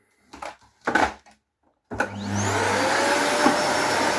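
An old Electrolux Clean500 vacuum cleaner switches on at maximum power with its brush head on a linoleum floor, settling into a loud, steady whine and roar after a few brief knocks and clicks.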